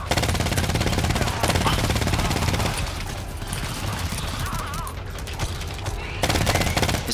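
Turret gunfire in the GTFO video game, rapid automatic bursts that are loud at the start, ease back through the middle and return near the end, with a player talking over them.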